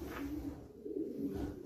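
A breeder pigeon hen coos in low, throaty, rolling murmurs, close and fairly soft, over a short stretch.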